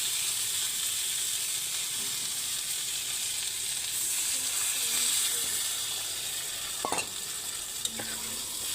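Potato pieces are tipped into a pan of frying spiced masala and stirred, giving a continuous close sizzle and hiss with faint clinks and scrapes of the spoon toward the end.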